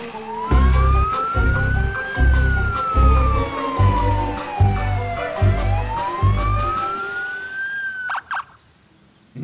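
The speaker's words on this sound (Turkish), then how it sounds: "Morfo polis arabası seni hapse götürüyor." Cartoon police car siren, a loud wailing tone sweeping slowly up and down over a pulsing, rhythmic low beat, ending with a few short squeaky effects.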